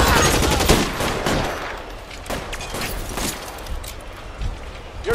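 Gunfire in the L.A. Noire video game, a rapid burst of shots up close at the start followed by scattered, fainter reports under a busy wash of game noise.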